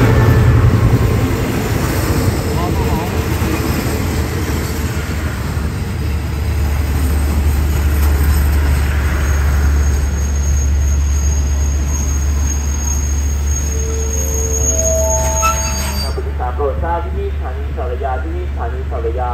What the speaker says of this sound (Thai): เป็นขบวนรถโดยสารทางไกลขบวนสุดท้ายแล้วนะฮะ